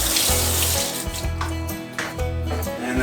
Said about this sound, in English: essentially you just put the seeds in, rinse it